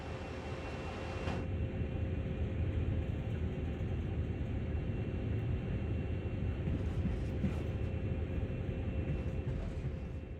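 A steady, low rumbling drone of a locomotive coasting along in Train Sim World 2020, rolling continuously with an even mechanical hum and no voices.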